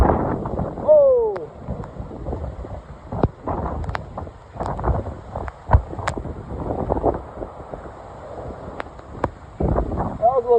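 Strong derecho wind gusts buffet the microphone in bursts and rumbles, uneven and loud, while people talk intermittently over it.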